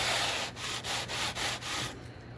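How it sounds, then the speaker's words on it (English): Scraping strokes along the edge of a Firefly FFTH guitar part's finish, with the tool leaned at about a 45-degree angle: five or six rapid, even rubbing passes close up, then a stop. "all we're going to do is lean it at like a 45-degree angle and give it a scrape"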